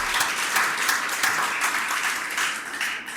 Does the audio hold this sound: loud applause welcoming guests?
yes